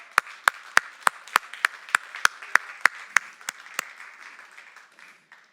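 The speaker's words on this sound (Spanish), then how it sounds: "Denle un aplauso al Señor." A church congregation claps in unison during a worship service, about a dozen crisp, evenly spaced beats that fade into softer scattered claps.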